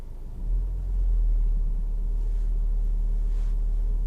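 Steady low rumble of a car engine idling while the driver holds the foot brake, a constant near drone with a slight swell in level, no talk.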